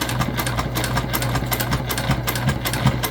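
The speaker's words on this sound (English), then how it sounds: "And we are back stitching." Close, steady whirring of a sewing machine back stitching the bound edge of a travel sling bag, with an even rapid pulse and no voices.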